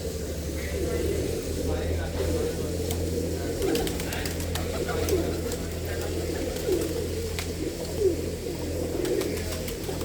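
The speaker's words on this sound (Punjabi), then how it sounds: "ਬਾਈ ਦਾ ਫਾਰਮ ਬਹੁਤ ਵੱਡਾ ਆ ਔਰ ਬਹੁਤ ਹੀ ਕਬੂਤਰ ਆ ਬਾਈ ਹੁਣਾਂ ਦੇ ਕੋਲ" On a large pigeon farm, many birds keep up a soft, continuous cooing at moderate distance, a dense murmur of calls over a low constant drone.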